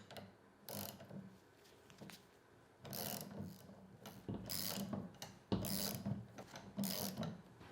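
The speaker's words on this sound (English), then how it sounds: "Now to remove the adjuster sleeve, loosen up these two clamps." A ratchet clicks in short bursts as it loosens the clamps on a tie rod adjuster sleeve of a 1982-1992 F-Body steering linkage, with several rapid metallic ratcheting strokes separated by pauses, close and clear with no talking.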